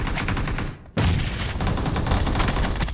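Rapid automatic gunfire rattles loudly and almost continuously in a video game deathmatch, broken by one brief pause before the bursts resume.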